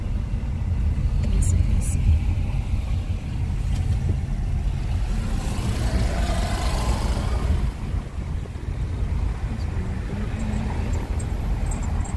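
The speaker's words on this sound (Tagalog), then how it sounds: "Ang daming sasakyan" Heavy car traffic rumbles steadily through a crowded Mina District area in Qatar on a busy Friday evening, a continuous low drone of many engines and passing vehicles with scattered faint distant sounds and no clear foreground voices.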